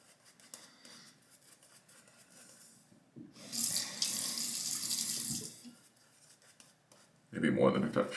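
Tap water runs into a sink while a Wolf Whiskers shaving brush is wetted, a hissing gush for a couple of seconds, then a second burst near the end, with quiet handling sounds between.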